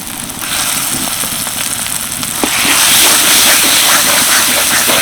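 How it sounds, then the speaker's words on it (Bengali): Small boneless chicken pieces, about two hundred grams, sizzling and frying in a spice masala for a Bengali chicken ghugni, a steady close crackle that grows louder and busier partway through, with occasional stirring. "এবার এই মশলার সাথে চিকেনটা একটুখানি কষিয়ে নেব"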